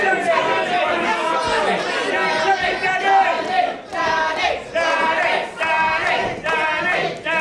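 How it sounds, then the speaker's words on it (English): Wrestling crowd at a live independent championship match chants in rhythmic, sustained waves, loud and close, with voices blending into repeated shouted phrases and brief dips between chants. "You can hear the crowd chanting here"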